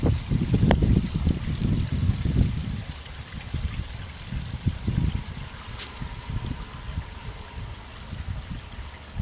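Water runs steadily through a backyard pondless waterfall, a continuous close rushing and trickling wash that carries on alone for the whole stretch, a little heavier at the start.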